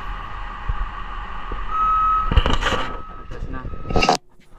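A garbage truck pulls up behind a dumpster, its steady reversing beeps sounding over a rumbling engine, then louder mechanical clanks and hisses before the sound cuts off abruptly; a person talks briefly.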